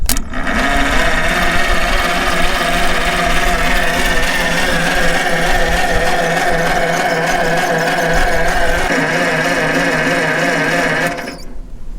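A 1948 McCormick-Deering W-4 tractor engine with its spark plugs out cranks on the starter, making a loud, continuous whirring spin that stops at the end.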